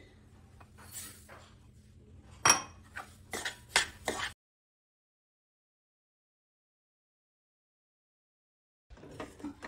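Sesame seeds being stirred into sugar syrup in a metal pan on a gas stove for til papdi, giving a series of close scraping clinks and taps, then silence before faint stirring resumes.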